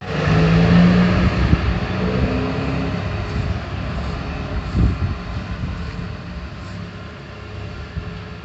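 A tractor with no tag drives up the road past a house, its engine droning loud at first and then fading as it pulls away.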